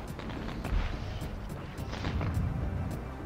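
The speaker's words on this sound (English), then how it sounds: "Hit all the fireworks! All the fireworks!" Fireworks exploding in Sly Cooper and the Thievius Raccoonus, a rapid series of sharp bursts and booming pops over a rumbling game background, fairly loud and irregular.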